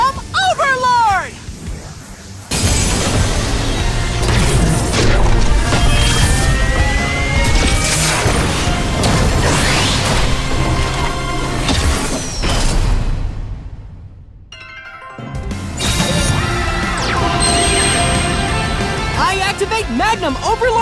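Yu-Gi-Oh! Duel Links summon effect for Supreme Machine Magnum Overlord: loud layered whooshes, crashes and booming impacts with dramatic music, a brief dropout and a surge, mixed under an excited shouting voice.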